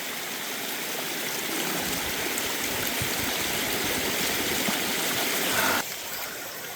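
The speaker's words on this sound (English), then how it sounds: "Yet the water still flows like it always does here." A mountain stream on Sliding Mountain rushes in a loud, steady, close wash of flowing water that carries on unbroken throughout.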